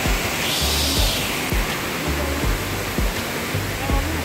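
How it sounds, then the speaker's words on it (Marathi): Waterfall at Ghonsari village in the Konkan region, a loud continuous rushing roar of falling water, steady and close, with a few faint low thumps underneath and no talking. "घोणसरी गावामध्ये आमच्या या धबधब्याला जरूर नक्की भेट द्या"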